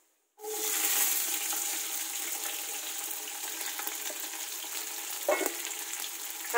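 Curry leaves dropped into hot oil in a big cooking pot: a sudden loud sizzle that settles into a steady, close frying crackle, with a brief clatter near the end.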